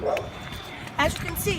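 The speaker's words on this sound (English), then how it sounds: "that's a dog." A dog barks outdoors during a snowstorm, giving a couple of short barks at moderate distance, partly masked by a person talking over outdoor background noise.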